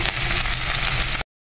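Tomatoes hit a hot frying pan and sizzle, a loud dense hiss that holds steady for about a second before cutting off abruptly.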